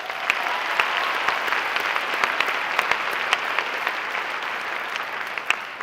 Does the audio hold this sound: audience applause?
yes